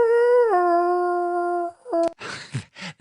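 A person imitates distant howling with a long, wavering vocal howl that drops in pitch, followed by a few short yips and whimpering cries, with no other sound around it.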